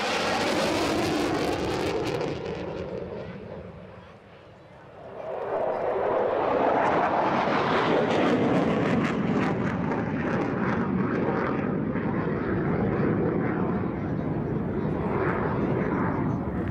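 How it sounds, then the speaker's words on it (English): An air force jet makes a high-speed pass just below the speed of sound at the Athens Flying Week air show: a loud, broad roar that dips briefly, then swells into a sustained rushing thunder with wind buffeting the microphone. "And here the high-speed pass, just below the speed of sound"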